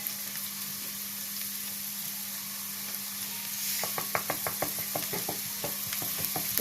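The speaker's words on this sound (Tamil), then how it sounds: "இதில் கொஞ்சம் உப்பு சேர்த்து வதக்கலாம்." Cauliflower and capsicum sautéing in a pan with a salt addition, a quiet steady sizzle with a low hum underneath, then a run of quick rhythmic spatula taps and scrapes in the second half; no speech.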